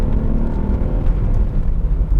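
Engine of a VW Corrado VR6, the aging car with a timing chain at risk of failing, running with a steady low rumble and mild revving, heard loud and close for a few seconds without speech.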